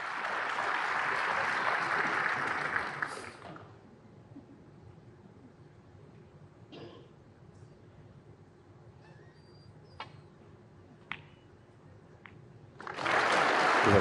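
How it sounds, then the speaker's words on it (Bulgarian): A snooker audience applauding Jack Lisowski, a few seconds of dense clapping that stops abruptly, a quiet hall with scattered faint knocks, then applause bursting in again at the end. "Публиката окоръжава Джак."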